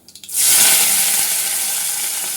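Chopped onion dropped into hot oil with cumin for a pepper-garlic gravy, a few quick clatters and then a sudden loud, steady sizzle that carries on close up.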